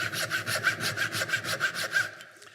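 A hand saw cutting dovetails in a wooden board, rasping in about seven steady back-and-forth strokes, close and clear, then stopping, with no voices.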